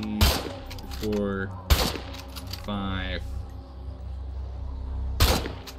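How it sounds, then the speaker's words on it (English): Gunfire in the game State of Decay 2, several loud sharp shots spaced a second or two apart, with a voice counting numbers aloud between them. "That's a lot of shots."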